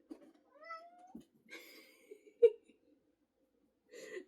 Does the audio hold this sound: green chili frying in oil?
no